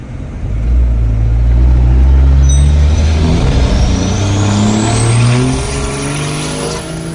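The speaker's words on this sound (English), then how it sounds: "So here's gonna be a little exhaust clip up against the fence." A second-generation diesel pickup fitted with an HE351 turbocharger revs up hard, its deep exhaust roaring loud and close against a fence, holding for a few seconds before easing off; a faint turbo whistle rises alongside.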